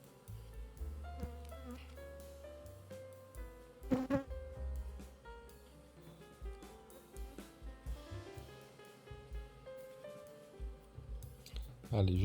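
Honey bees hum steadily at an open hive during queen rearing, a dense continuous buzz running the whole time with a few louder bursts and handling sounds as the frame is worked.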